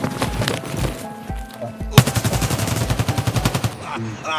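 Automatic gunfire in Escape From Tarkov rattles in rapid bursts, a scattered volley first, then a loud sustained rapid string of shots, close and punchy, with a voice speaking briefly underneath.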